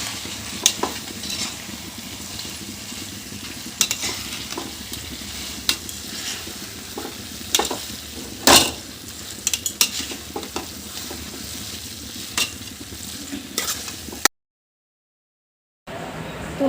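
Boiled Maggi noodles stirred in a pan, with a steady soft sizzle and scraping broken by a few sharp clinks of a utensil against the pan, ending in a short silence.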